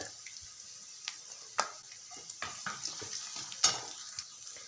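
Garlic, cumin seeds, curry leaves and chillies sizzle in hot oil in a pan for pav vada potato filling, a steady close frying hiss broken by several sharp spatters and stirring scrapes, with no talking.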